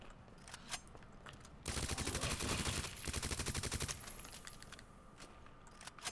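Rapid, loud burst of automatic gunfire from a Resident Evil 2 firefight, a dense rattling volley lasting about two seconds, with scattered sharper single shots and clatter before and after.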